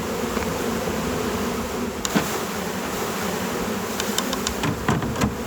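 A dense swarm of honey bees, about three pounds shaken from a hive frame, drones loudly and continuously, with a few sharp knocks and clicks scattered through the buzzing.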